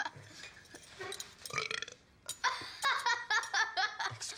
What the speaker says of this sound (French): il y a un gars qui fait des rots géants